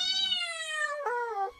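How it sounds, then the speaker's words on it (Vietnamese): A cat gives one long, clear, close meow that slides downward and then bends into a brief second inflection before trailing off, heard alone in a quiet room. "Đột nhiên, một tiếng mèo kêu không biết từ đâu truyền đến."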